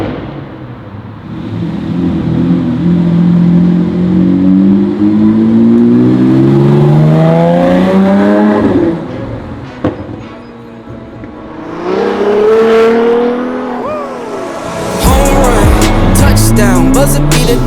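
Cars revving and accelerating on a Zurich street at one in the morning, loud engine notes rising and falling as vehicles pass close by, with a brief lull in the middle before more revving and a burst of music at the end.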